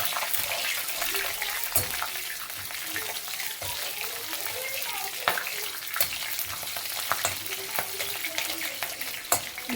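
Green chillies fry in a pan of hot oil for vegetable fried rice, giving a continuous close sizzle broken by scattered pops and occasional stirring knocks, with no talk over it.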